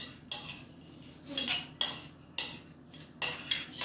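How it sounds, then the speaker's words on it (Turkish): Spoon scraping and clinking against a bowl while stirring a sauce for börek, several bright metallic strokes at an uneven rhythm, close and fairly quiet, with no one speaking. "Karıştırıyorum. Sosuyla beraber."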